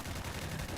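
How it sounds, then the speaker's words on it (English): Rapid, dense gunfire in Fallout: Tale of Two Wastelands from NCR deserters, a continuous rattling burst of overlapping shots that sounds close and fills the whole moment. "Gunfire. Gunfire."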